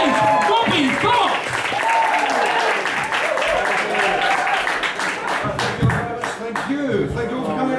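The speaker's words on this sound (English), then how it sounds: "stamp your feet, and clap your hands, and whoop and cheer." Comedy club audience applauding and cheering as a comedian takes the stage, a dense, steady wash of clapping with whoops, loud and continuous throughout.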